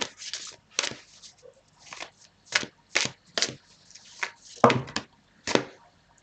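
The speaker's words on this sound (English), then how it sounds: "I did get this when I was shuffling the cards." Tarot cards being shuffled by hand in separate crisp riffling bursts, roughly eight short rustling snaps spread evenly with brief pauses between, close and clear with no talk.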